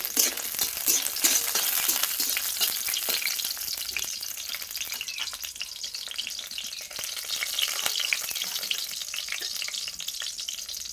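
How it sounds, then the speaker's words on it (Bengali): Bori lentil dumplings frying in oil in a kadai, a dense, continuous crackling sizzle held close and steady, with faint stirring clicks beneath; no one speaks. "দেখো তেলটা দিয়ে কটা বড়ি দিয়ে দিয়েছি, বড়িটা আমি ভেজে নেবো।"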